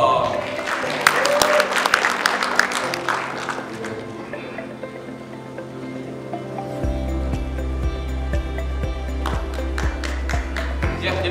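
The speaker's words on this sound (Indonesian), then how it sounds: "Kasih tepuk tangan dong." An audience at a business presentation claps loudly for several seconds. The applause then fades as music takes over.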